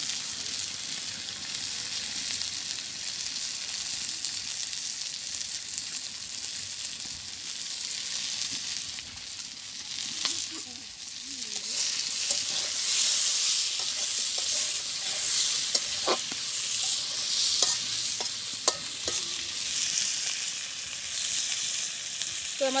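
Hilsa fish fries in hot oil in a pan with a steady, even sizzle, while a utensil stirs it now and then with scraping clicks that grow more frequent toward the end; no voices.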